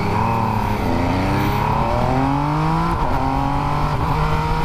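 A Triumph Street Triple RS motorcycle engine revs hard as the auto-blipper kicks in on downshifts, its close, loud pitch sweeping up and down in repeated bursts with no talk over it.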